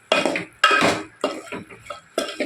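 A metal lid set onto a cooking pot while mutton keema with fenugreek is being made, several sharp clanks and scrapes in quick succession, close and clear with no talking.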